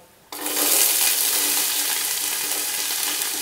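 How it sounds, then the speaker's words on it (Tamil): Three big onions, sliced lengthwise, hit a hot pan with cashews and sizzle loudly from a sudden start, the frying hiss staying strong and steady with faint stirring underneath. "பாருங்கள் வெங்காயம் சேர்த்து இந்த அளவுக்கு நல்லா வதக்கிடுங்க"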